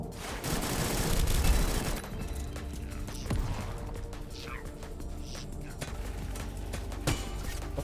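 Rapid gunfire in the hoverboard shooter game Echo Point Nova crackles in dense bursts, loudest early and continuing as scattered sharp shots over a constant busy game din.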